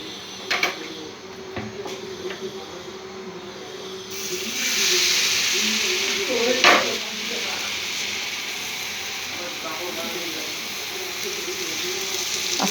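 A gola roti fries in oil in a pan. A faint crackle at first is followed by a louder, steady hiss once fresh oil goes in, with a sharp clatter near the middle.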